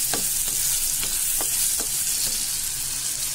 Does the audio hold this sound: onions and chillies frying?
yes